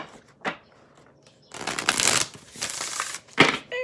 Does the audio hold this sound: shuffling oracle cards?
yes